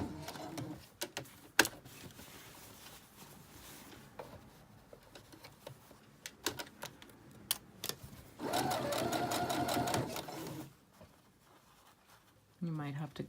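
A domestic sewing machine stitching a hem along a facing, running in one steady burst of rapid mechanical whirring, otherwise quiet with scattered clicks and handling taps and a short second burst near the end.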